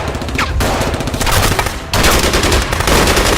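Weapons fire in loud, sustained automatic bursts, a dense rattle of gunfire that fills the whole stretch with barely a pause.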